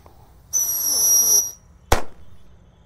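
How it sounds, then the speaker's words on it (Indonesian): A Happy Power 4 mini firework launcher goes off: a bright, steady whistling shriek for about a second, then a short silence and one sharp, loud bang that fades quickly. "di sini ada Happy Power 4. Kita nyalakan, ini pelontar mini"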